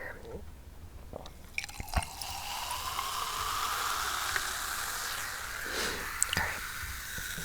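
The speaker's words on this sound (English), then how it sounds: "I'm going to pour myself another glass here." A drink is poured into a glass up close, with a soft rising liquid stream, a few clinks and drips, and quiet whispered talk around it.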